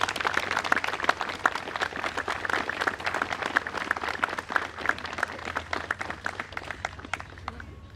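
Scattered hand claps fill a Veterans Day ceremony, a steady patter of applause that holds for several seconds at moderate volume, with individual claps standing out against a low background hum.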